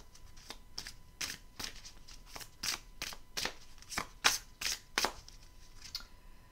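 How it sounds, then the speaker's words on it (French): A deck of oracle cards by Lise Bartoli is shuffled by hand, producing about a dozen quick crisp riffling bursts in an uneven rhythm, close and fairly quiet, with no talking. "je vais prendre les cartes de Lise Bartoli"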